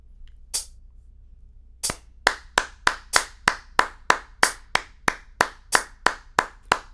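Sharp hand claps ring out one at a time, then settle into a steady, even run of about fourteen crisp, close claps, grouped four to a pulse, with no talking.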